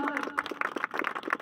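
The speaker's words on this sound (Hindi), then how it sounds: "अब आप मोहम्मद चौधरी सेकंड प्राइज जिसने जीता है उसके लिए तालियां" A brief round of clapping greets a second-prize winner at a prize-giving event. Uneven hand claps sound close, with voices mixed in underneath.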